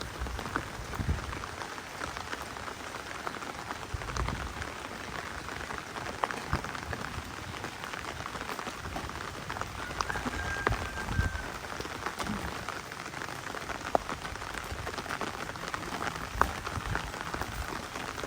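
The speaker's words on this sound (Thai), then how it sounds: "ฝนตกไปซี่นี่ยันไปทางใดบ่ได้ละ" Heavy monsoon rain pours down steadily through the night in rural Thailand, a dense unbroken hiss of drops on surfaces, close and even, with no talking.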